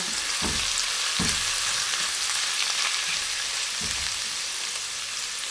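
Ginger frying in oil in a wok for a shrimp dish, a dense, even sizzle filling the whole stretch, with three or four low knocks from the spatula and no talk.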